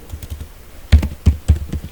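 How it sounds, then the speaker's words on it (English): Keys clack on a computer keyboard while a query is typed into MySQL Workbench: soft, quick taps at first, then three or four louder, distinct keystrokes close to the mic, with no talk. "So here I'm typing show"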